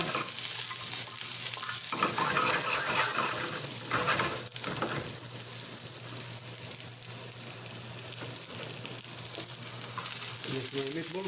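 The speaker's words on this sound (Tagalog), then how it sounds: "I have to saute with onion, garlic and onion." Onion and garlic sauté in a pan with a steady, loud sizzle and continuous stirring scrapes, close up, and no talking.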